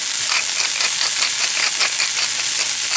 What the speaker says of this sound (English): Quick saute, salt, pepper to taste